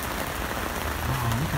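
Steady rain falling on surfaces in Hua Ping, Lijiang, a dense, even patter that continues throughout without talk.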